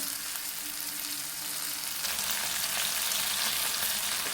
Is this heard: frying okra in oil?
yes